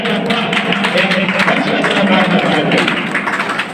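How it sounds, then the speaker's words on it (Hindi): Applause greeting a guest on stage at a school literary event, a dense continuous wash of clapping from a large audience, loud and sustained throughout. "स्वागत है आपका। जोरदार तालियों के साथ"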